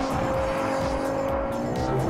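A Ferrari FF accelerates hard as its engine holds a loud, sustained high-revving wail for the whole stretch, heard from close by.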